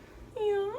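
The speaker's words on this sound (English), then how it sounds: "And that's my cat." A house cat named Lily gives a single short, rising meow, close and fairly soft, in a quiet room.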